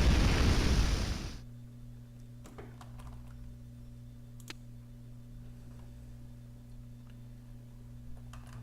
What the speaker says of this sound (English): I think what we need here is some napalm.